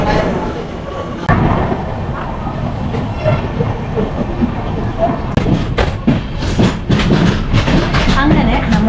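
A Tatanagar Express train running along the rails on its Ernakulam to Katpadi journey, a steady loud rumble with sharp clacks and thumps bunching toward the end, continuous throughout.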